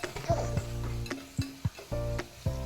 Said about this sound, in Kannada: ಫ್ರೈ ಆಗ್ತಾಯಿದೆ.